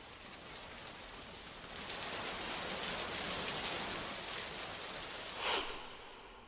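Torrential downpour in Solapur, a loud, dense, unbroken roar of rain drumming on surfaces with a slight swell near the end and no voices.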